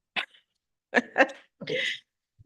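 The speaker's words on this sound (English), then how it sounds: "I think I'm going to sneeze." A short sharp sneeze-like burst, then a pair of quick breathy sounds and a longer exhaled noise, fairly quiet in a still council meeting room.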